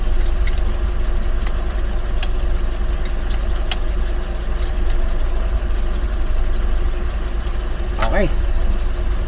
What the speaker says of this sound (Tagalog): Narinig nyo ba? Ang tahimik ng makina mga master.